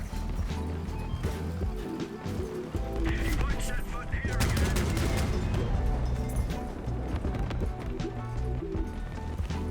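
Vehicle-mounted weapons fire rapid bursts in a Crossout battle, with dense clattering gunfire and impacts running throughout under a busy, loud game mix, and a person talks over part of it.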